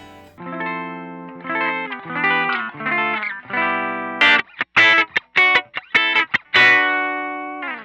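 Electric guitar played through a Zoom MS-50G multistomp pedal on its Fender combo amp model, with delay and reverb: sustained chords and notes, then a run of short choppy staccato stabs before a final ringing chord, bright and slightly distorted, no talking.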